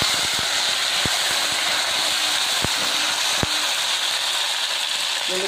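Onions tipped into hot oil with curry leaves, for a cauliflower dish, giving a steady, loud frying hiss that fills the whole stretch, with a few faint sharp clicks.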